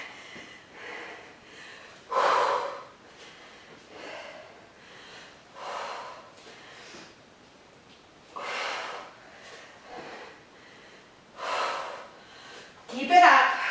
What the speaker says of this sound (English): Big breathing here.